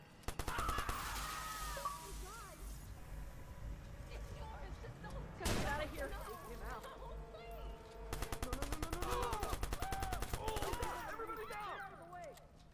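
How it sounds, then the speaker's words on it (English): Tommy gun fire in the Watch Dogs video game, long rapid automatic bursts, loud and close, with a pause between sprays and a voice talking over the action. "I got you with the Tommy gun!"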